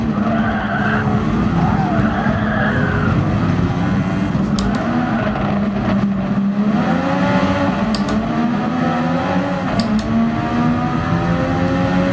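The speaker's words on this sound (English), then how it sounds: "The sounds of the other cars are loud too." Race cars roar past on a track as engines rise and fall in pitch, with tires squealing and skidding amid loud, overlapping engine noise from several nearby cars.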